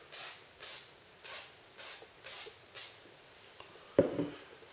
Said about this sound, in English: take your gun oil, or Remington oil,